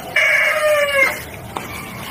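A single drawn-out, harmonic call, likely a rooster crowing among chickens, rings out clearly for about a second, followed by a short faint sound.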